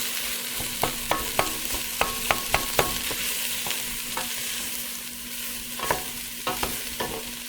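Taco soup ingredients stirred in a pot, a spoon knocking and scraping against the sides in a quick irregular series of sharp clicks over a soft continuous sizzle and a low steady hum, close by.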